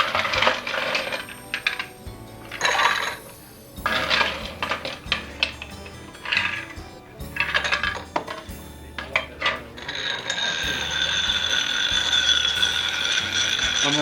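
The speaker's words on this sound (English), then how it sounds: "I'm going to give that a nice generous stir." Ice clinks and rattles against glass as a Kentucky-style cocktail with orange bitters is stirred with a bar spoon, close and bright, in irregular bursts that settle into a steady swirl toward the end.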